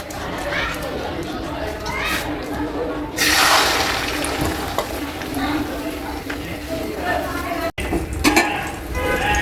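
Beaten egg mixture sizzles and fries in a hot oiled pan, a steady broadband hiss that swells loudly partway through, with occasional utensil clinks and a voice talking over it.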